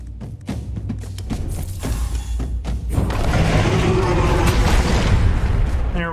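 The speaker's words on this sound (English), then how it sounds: "Because it's going to explode into another enemy." A monster explodes in the video game Tainted Grail with a loud, rumbling blast that swells midway and holds as a dense, roaring burst alongside a few heavy thumps beforehand.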